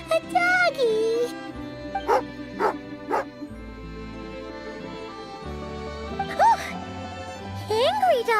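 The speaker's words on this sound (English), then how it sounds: "Angry doggy." Tagarin, an angry hunting dog in Genshin Impact, barks and yips in short bursts, close and sharp, mixed with whimpering growls, while people talk around the barks.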